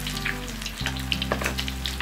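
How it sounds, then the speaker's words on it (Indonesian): Corn fritters seasoned with kunci spice paste sizzle steadily in hot oil over medium heat, a continuous close frying crackle with scattered sharper pops and a low steady hum beneath. "kita goreng sesuai dengan kebutuhan"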